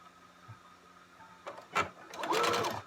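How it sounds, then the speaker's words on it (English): A sewing machine stitches down the sides of a fabric face mask, a few short mechanical whirs followed by a louder, sustained buzzing run of stitches at close range. "Find your 1/4 inch on your sewing machine. And then you're just going to sew down on the sides."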